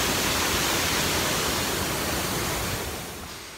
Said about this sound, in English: Look at this. Giant, giant waterfalls